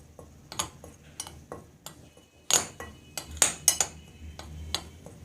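A spoon clinks and taps against a bowl while a flour coating mix with white pepper is stirred, irregular knocks clustering in the middle, quiet and close with no talking.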